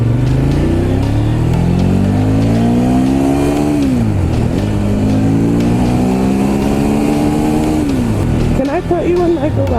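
A Ducati Monster 1200S motorcycle revs loudly and close while riding with a quick shifter, its engine pitch climbing in long sweeps, dropping at each shift, then climbing again.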